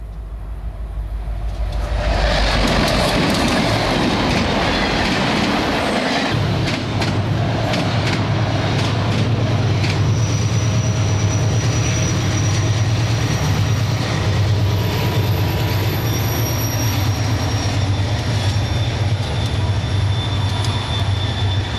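A freight train assisted by Union Pacific 844 steam locomotive rumbles and roars up a grade, building quickly into a loud, sustained passage of heavy rolling wheels with faint squeals and clatter continuing throughout.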